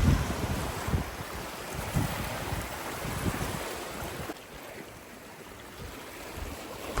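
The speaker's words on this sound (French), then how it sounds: "vous pouvez vous laisser bercer par le rythme des vagues" Sea waves wash rhythmically against a shore in a broad, steady surf roar, with wind buffeting the microphone; the wash eases slightly toward the end.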